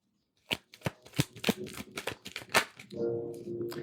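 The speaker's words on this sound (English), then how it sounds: "You see how I'm shuffling the card?" Tarot cards being shuffled by hand, a run of crisp riffling bursts in an irregular rhythm, close and fairly loud, ending in a steady low hum.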